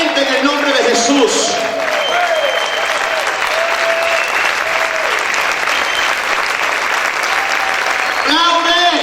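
A church congregation applauds loudly and steadily in a worship service, a dense sustained wash of clapping with voices calling out over it and a brief pause near the end before clapping resumes.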